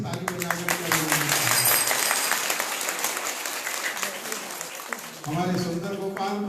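A temple audience applauds kirtan singers at a Srimad Bhagwat Katha gathering, a dense, steady wash of many hands filling the space. Voices and harmonium-like tones run underneath, and a louder burst of music or voice enters near the end.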